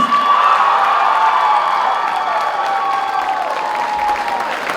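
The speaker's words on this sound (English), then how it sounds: "Can we get another round of applause for our pop boys?" Loud crowd applause at a cultural night showcase, with scattered cheers and whoops mixed into the sustained clapping, gradually easing slightly over several seconds.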